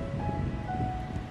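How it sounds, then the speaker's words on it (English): Steady wind rumbles and buffets against the microphone outdoors near the Bord Gáis Energy Theatre, a continuous low roar with faint tonal hums in the background. "it's a bit windy."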